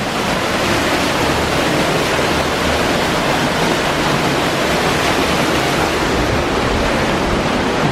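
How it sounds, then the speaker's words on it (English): Near a waterfall in a desert canyon oasis, water thunders in a constant, powerful roar that fills the whole stretch without letup. "Here's the waterfall."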